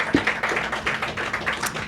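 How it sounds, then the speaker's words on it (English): Audience applause at a Black arts festival gathering: a brief patter of clapping hands, moderately close and steady, lasting only a couple of seconds with no talk over it. "Give her another round of applause"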